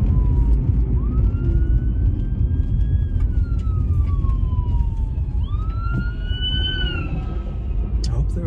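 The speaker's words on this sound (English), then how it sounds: "I have to like pull over because there's an ambulance coming." An ambulance siren wails along the road, its rising and falling tone sweeping past over a constant road and engine rumble, as if heard from inside a car pulled over.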